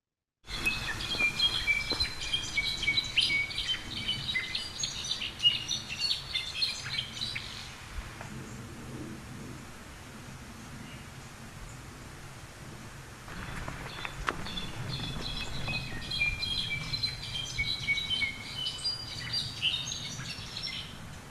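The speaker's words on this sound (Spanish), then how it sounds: "Es un clarín jilguero, creo que es Miadestes occidentalis." A brown-backed solitaire sings outdoors, its bright fluting phrases running in two long stretches separated by a quieter pause, moderately faint over a soft rustling ambient background.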